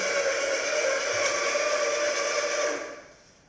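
A coffee grinder gives a loud, steady grinding whir for a few seconds and then cuts off abruptly, leaving faint quiet behind.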